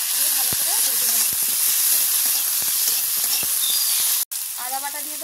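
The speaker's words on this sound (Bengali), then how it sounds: "এবারে পেঁয়াজ কুচি, এবারে টমেটো কুচিটা দিয়ে দেবো, এবারে লবণ দিয়ে দেবো, রসুন বাটা দিয়ে দেবো, দিয়ে ভালো করে ভেজে নেব" Chopped onion, tomato, salt and garlic paste frying in oil, loud continuous sizzle with rapid scraping stirs throughout, a brief cut near the end, no talk.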